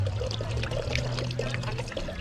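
Whole bottle of Sierra Tequila poured out in a steady, continuous liquid stream, close and fairly loud with no pauses or talk.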